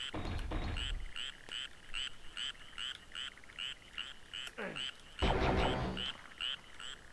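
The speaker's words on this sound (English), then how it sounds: "Yeah, there's a bullfrog." A bullfrog in a Doom level croaks in a steady, rhythmic series of throaty calls, fairly close and clear, with a few brief game noises cutting in.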